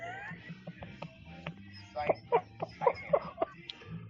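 A cat meows several times in a row, fairly close, over people talking and chattering in a room.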